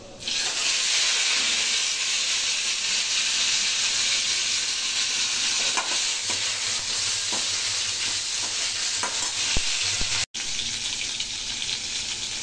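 Hog plum (amra) sizzles steadily in a hot pan as it cooks, a continuous frying hiss with a few faint clicks and stirring scrapes, with no talking.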